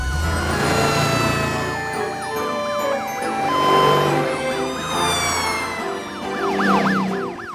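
Several emergency sirens wail together, their pitches sweeping up and down in overlapping cycles, loud and continuous, with a low engine rumble underneath.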